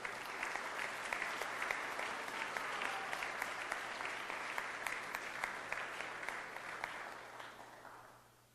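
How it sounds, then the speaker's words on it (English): Sustained audience applause for neighborhood heroes at a 2013 community induction ceremony, dense steady clapping from a crowd that holds evenly for several seconds before tapering off at the end. "Let's please give a round of applause to our 2013 Neighborhood Heroes"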